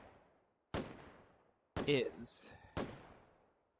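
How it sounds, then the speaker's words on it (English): Distant gunshots crack out periodically, three sharp reports spaced about a second apart, with a voice speaking briefly between them. "The relaxing sound of periodic distant gunfire is in the air."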